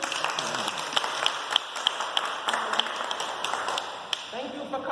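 Scattered hand claps from a small audience at a parenting talk, irregular and moderately loud, with speech running over them throughout.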